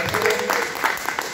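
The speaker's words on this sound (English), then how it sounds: "Come on now, clap it up for him." A brief burst of audience applause at an artist showcase, a dense patter of clapping heard close over a mix of crowd noise.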